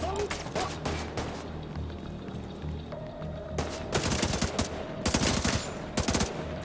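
Gunfire in the video game The Division 2, rapid bursts of automatic shots in several volleys, loud and sharp, with a faint steady hum beneath.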